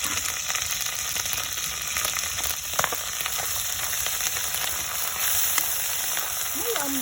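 Shrimp paste sautéing in a pot of Filipino mung bean stew, giving a steady close frying sizzle and crackle throughout with a few faint stirring clinks, no talking.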